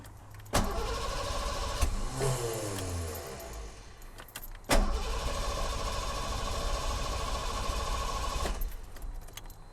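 A 331 engine in a Ford Ranger cranks with a fast, steady churning whir in two long attempts, nearly catching but not starting, close and loud.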